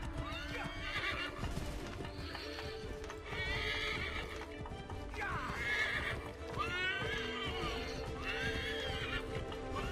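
Horses gallop with steady clip-clop hoofbeats and repeated loud neighs and whinnies in the video game Assassin's Creed 3, set over a continuous game soundtrack and background noise.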